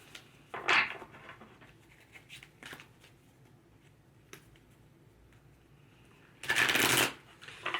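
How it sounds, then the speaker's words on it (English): Playing cards are riffle-shuffled in two quick bursts, one early and a longer one near the end, with soft handling clicks in between. "Shuffle each of these decks here."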